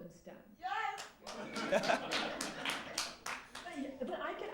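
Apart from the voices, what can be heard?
audience clapping at keynote speech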